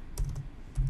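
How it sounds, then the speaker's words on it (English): Two short bursts of keystrokes on a computer keyboard, close and crisp, with a brief gap between them and no voice. "To see what is behind, you simply type"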